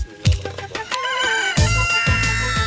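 Chickens on a small poultry farm in the Alpujarras of Spain cluck and squawk close by in short, uneven bursts, with a louder call rising over the others partway through.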